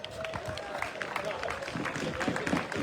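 Crowd at a cycle speedway veterans world cup in Australia applauds during rider introductions, a steady patter of clapping with scattered sharper claps under ongoing talk.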